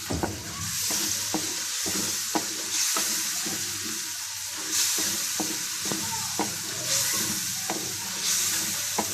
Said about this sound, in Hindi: इसके साथ ही साबुत हरी मिर्ची शामिल कर दें और अब इसको अच्छे तरीके से मिक्स कर लें।